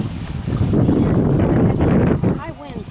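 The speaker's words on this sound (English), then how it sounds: "High wind here today." High wind blowing outdoors in a Texas leek garden, a loud, steady roar of gusts buffeting the microphone throughout, easing slightly near the end.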